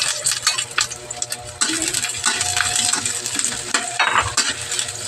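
Red onions frying in a pan on a home stove, giving a loud, close, continuous sizzle broken by clinking stirs and scrapes of a utensil against the pan, with no voices over it.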